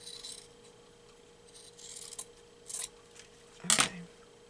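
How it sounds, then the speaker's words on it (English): Paper being cut with scissors for a junk journal craft, a few short rasping snips building to one louder, crisp cut near the end, close up in a quiet room. "I'm going to cut right here."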